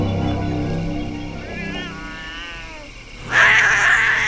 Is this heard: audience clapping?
no